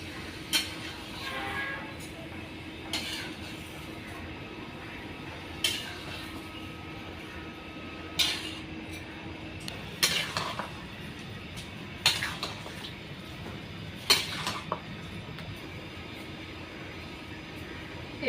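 Vegetables being sautéed in a pan in a village kitchen, a spatula scraping and clanking against the metal every couple of seconds over a low steady background hum.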